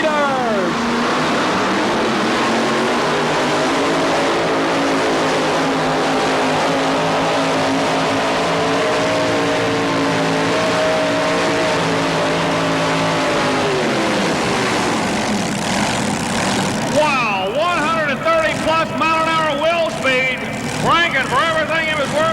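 A tractor-pulling engine roars and strains steadily at high revs for a long stretch at a 1987 tractor pull in Louisville, Kentucky, then drops and sputters, with a voice talking over it.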